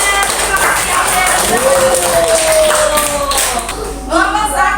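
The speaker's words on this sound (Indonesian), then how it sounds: "tepuk tangan untuk kelompok 3" Classroom applause for a student group, a steady wash of many hands clapping at moderate loudness, with children's voices and faint talk mixed in throughout.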